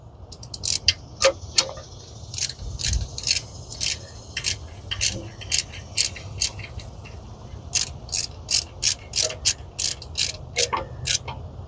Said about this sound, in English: my ratchet has a twisty handle on it, which is kind of nice